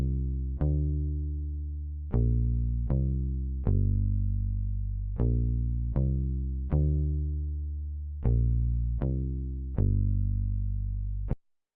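Soca beat bass line played alone in its sparse first form: a single drop at the start, then about a dozen sustained synth bass notes in a steady rhythm, loud and clean with a buzzing, harmonically rich tone.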